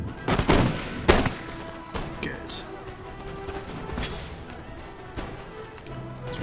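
Musket volleys fired at grenadiers during a siege battle in Empire Total War, a few sharp cracking shots early on followed by scattered fainter bangs, with someone talking over them.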